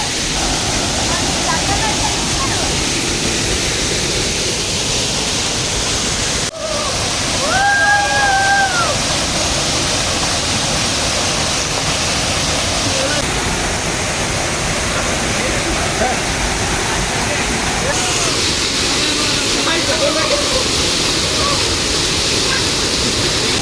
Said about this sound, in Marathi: इथून वरून पाणी येतं आहे ते छोटंसं मस्त धरण आहे